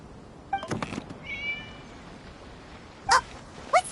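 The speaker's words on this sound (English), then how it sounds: "It was just a cat." A cat meows a few times in the video game Genshin Impact, short clear calls near the start and again near the end, with no talking.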